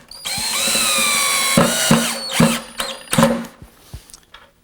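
A power drill drives a screw into a pocket hole joint on a table, first a long steady whine that slows as the screw seats, then a few short stuttering pulses near and loud.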